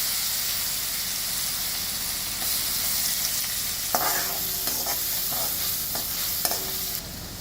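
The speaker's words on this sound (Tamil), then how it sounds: "கருவேப்பிலை, வெங்காயம் போட்டுடலாம்" Curry leaves and onion hitting hot oil in a pan for a lentil-ball tamarind kuzhambu, a loud steady sizzling hiss throughout, with some stirring scrapes and crackles joining in the second half, close and without voices.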